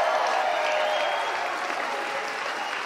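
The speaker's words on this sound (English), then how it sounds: "save the rest of that clapping for after my message" A church congregation applauds steadily for a few seconds, a dense, fairly loud wash of clapping with no clear speech over it.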